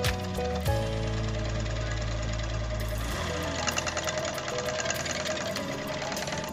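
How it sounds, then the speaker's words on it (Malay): A sewing machine runs steadily while stitching a T-shirt neckline, with a loud continuous mechanical whir and rapid needle knocking that changes pitch slightly midway as the stitching goes on. "Kemudian jahit."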